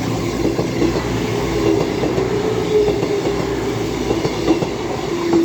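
Class 221 unit 221129 passes through Cheadle Hulme station on the West Coast Main Line, running from Manchester Piccadilly to Bournemouth, as a loud, steady close rumble with faint rhythmic wheel clatter and a thin squealing tone.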